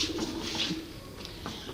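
Domestic pigeons kept by a fancier in Rajiaan village coo softly in a few low, throaty calls, close by but quiet, over a faint background with no talking.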